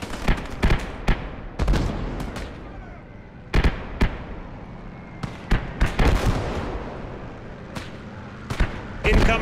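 Mortar rounds explode in a war video game, a run of sharp, loud blasts and cracks arriving irregularly, some close together in clusters, over a continuous low battle rumble.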